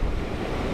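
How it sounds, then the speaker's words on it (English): Sea waves breaking on an incoming tide at Whitehills, heard as steady, loud broadband surf wash mixed with breeze rumbling over the microphone. "the incoming tide, the waves starting to break a little bit higher now"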